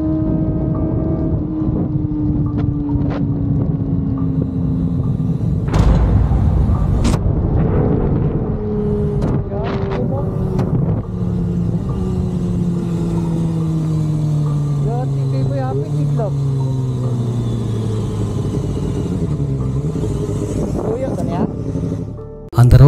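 A motorcycle rides along a road at night, recorded from a helmet-mounted GoPro: a continuous engine drone that rises and falls in pitch, with wind buffeting the microphone and a voice talking over it.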